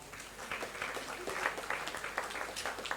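Audience applause at a university ceremony, a dense, steady patter of many hands clapping from across the hall, with a voice talking over it.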